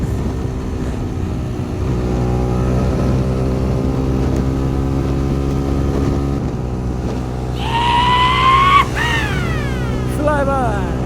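Steady engine drone from a vehicle cruising on a highway, with a rising whine as it pulls out to overtake near the end, and a voice talking over the constant road noise.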